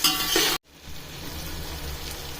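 Green chilies and tomatoes frying in a pan for chicken biryani: a steady, soft sizzle that runs close and uninterrupted, with no voices.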